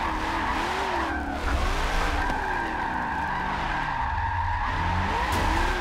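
Continuous tire squeal from a car skidding to heat its tires in the racing game Forza 7, a loud wavering screech over steady engine drone, with no talking.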